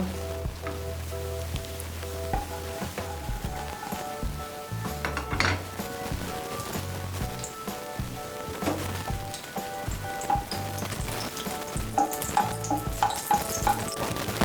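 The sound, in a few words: dried red chillies frying in hot oil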